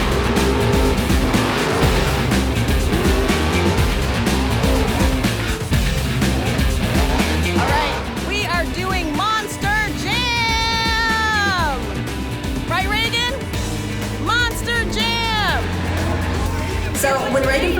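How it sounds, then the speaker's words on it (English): Monster truck engines roar loudly at a live monster truck show, a continuous dense rumble with sharp rising squeals and whines layered over it, and voices are heard throughout. "once those monster trucks came to life"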